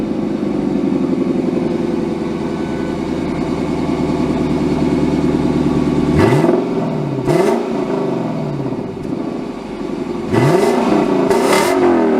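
The V8 engine of a 2026 Lexus LC 500 idles with a steady low rumble, then revs up several times in sharp surges that rise and fall, loud and close.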